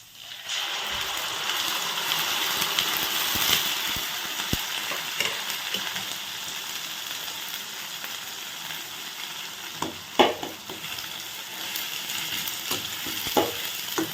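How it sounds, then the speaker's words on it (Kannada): Masala frying in oil for a Kerala-style curd curry after browned onions, a steady broadband sizzle with scattered clicks and spoon scrapes, fairly close and continuous with no voices. "ಮಸಾಲೆಯನ್ನು ಎಣ್ಣೆಯೊಂದಿಗೆ ಚೆನ್ನಾಗಿ ಫ್ರೈ ಮಾಡಿ ಒಂದು 3 ನಿಮಿಷಗಳ ಕಾಲ ಫ್ರೈ ಮಾಡಿ"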